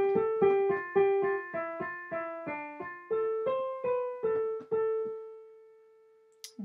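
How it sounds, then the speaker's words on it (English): The Scheherazade storyteller theme, meant for solo violin, plays as a single melodic line of distinct, evenly paced notes. It winds downward and up again before settling on a long held note, quiet and alone. "Scheherazade, our storyteller, is going to be represented by a solo violin."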